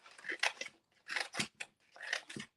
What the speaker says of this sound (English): And I'm going to cut fringe.